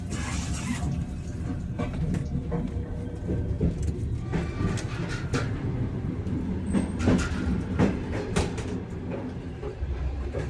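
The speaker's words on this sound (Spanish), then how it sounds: "se escucha, entre el traqueteo, el crujir del carbón mineral que alimenta los tubos que recorren todo el coche" Old Soviet train carriage rattling steadily as it rolls, with the rumble and clatter of wheels and couplings filling the space, irregular knocks and crackles throughout from the coal-fed heating; no voices.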